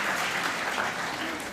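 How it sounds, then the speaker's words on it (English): A short burst of audience clapping at a panel discussion, a dense patter of many hands that stays fairly even and moderately loud before tapering slightly. "Do you want to clap before I clap?"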